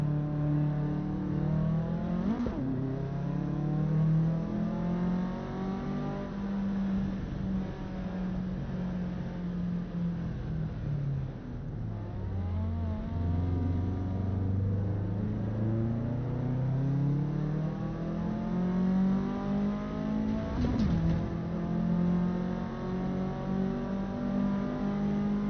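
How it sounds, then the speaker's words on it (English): A 4-cylinder turbocharged car engine in the Assetto Corsa Evo racing game revs steadily and loudly throughout, the pitch sweeping up and down through gear changes with a few sharp blips, continuous and close with no talk. "Was this still a 4-cylinder turbo engine?"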